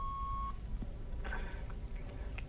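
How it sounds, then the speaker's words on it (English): Answering machine tone beep, a single clean steady beep at the start lasting about half a second, followed by low room noise and faint small sounds. "please leave a message after the tone."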